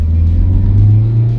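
A car engine accelerates with a loud, continuous low rumble that swells slightly mid-way, heard close up from inside the moving car with no talk.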